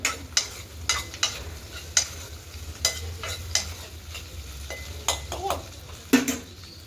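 Pieces of goat head meat fry in a pan and are stirred with a metal utensil, a steady sizzle under repeated scraping and clinking strokes, close and fairly loud, with one louder knock near the end.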